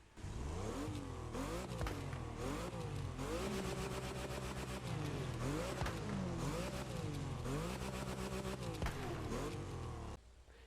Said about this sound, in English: let's go take a listen to that engine and see how this thing actually sounds